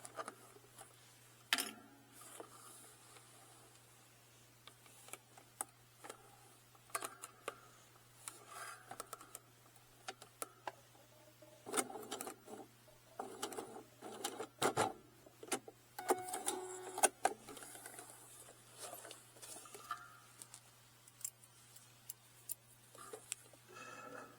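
Sewing machine stitching a wallet with a zipper pouch and card pockets, quiet intermittent bursts of mechanical whirring and ticking separated by pauses and small handling clicks, close and faint over a steady low hum, no speech.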